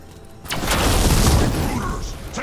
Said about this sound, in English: They've got mortars.